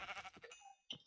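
Sheep in a Minecraft-style block game bleat in short wavering calls, a couple of brief bleats standing out clearly against quiet game background with no talk.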